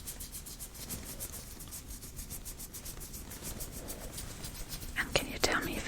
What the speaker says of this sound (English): Now I'm going to rub my fingers next to your ear.